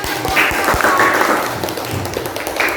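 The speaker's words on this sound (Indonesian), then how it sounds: "Tepuk tangan." Applause at the close of a group presentation during a classroom teaching performance test: a short burst of clapping from several people, fairly loud and near, with some voices mixed in.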